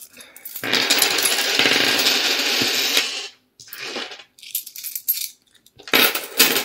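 Loose change being poured and shuffled, a long dense metallic rattle of many coins followed by shorter bursts of clinking, close and fairly loud with no talking.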